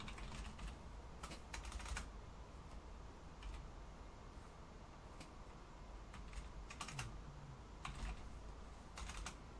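Typing on a computer keyboard, faint scattered clusters of key taps with pauses between them over a quiet room hum.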